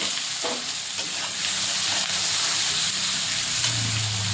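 Chopped onions frying in hot oil with whole garam masala, giving a steady, close sizzle and hiss throughout, with a faint low hum near the end.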